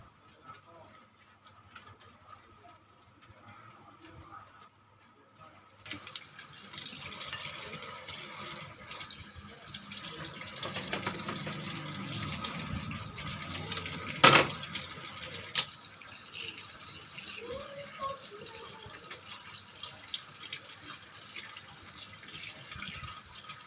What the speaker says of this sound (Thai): ปูที่เราล้างทำความสะอาดแล้วนะ